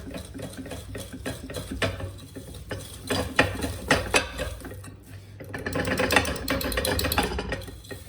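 Butter and sugar being mixed for peanut butter cookies, a steady mechanical whirring with rhythmic scraping and clattering against the bowl, close and continuous, growing busier toward the end.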